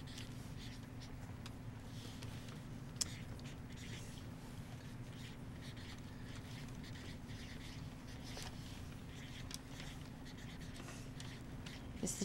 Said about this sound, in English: I'm going to write the point, or the reason for it.